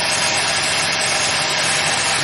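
A Kaplan or Francis turbine trainer runs with no load at 1500 RPM, giving a loud, steady, unbroken mechanical roar and whine with no pauses.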